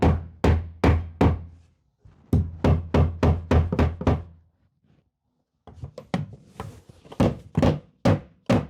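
Hammer blows strike wood in a box van build, a close series of sharp, hard thunks in steady bursts of five or six, separated by short pauses and a stretch of quiet.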